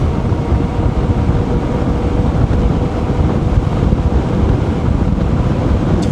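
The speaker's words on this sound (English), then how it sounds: "Kind of going against the wind here a little bit." Steady, loud wind roar buffets the microphone while riding a Velotric Breeze 1 e-bike into a headwind at over 20 mph, a dense continuous rush with no distinct motor sound.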